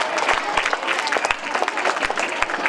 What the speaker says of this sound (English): Give a big round of applause for that class.